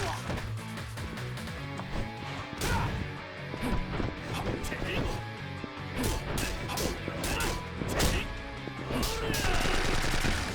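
Rapid video-game gunfire from Yakuza 4 Remastered crackles over a dense mix of combat music and impact hits, with repeated sharp bursts rising above the busy, continuous background.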